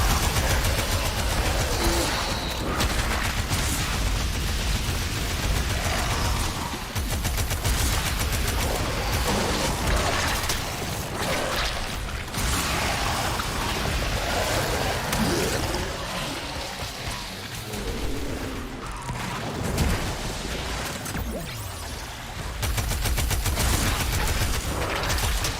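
Flamethrower firing in the Warframe video game, a continuous loud roaring, crackling blast that holds for over twenty seconds with brief dips and surges, with no voices.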